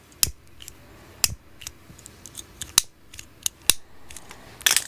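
Clicking lighters recorded close up for smoking Foley, snapping out a steady series of crisp, loud metallic clicks roughly every half second or so, ending in a rapid flurry, with no talking.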